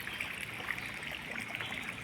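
Water flowing out of Sandhida lake near a temple makes a faint, steady rushing wash, continuous and even throughout, with no voices.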